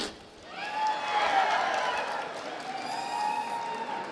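Applause from the audience at an annual alumni meet at an engineering institute in Bengaluru, a soft, distant wash of clapping and crowd murmur swelling briefly, with a voice talking over it.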